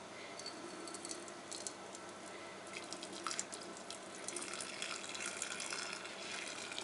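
Homemade tomato juice is poured into jars in a kitchen, producing a faint, continuous liquid stream with light trickling and occasional soft clinks, with no talking.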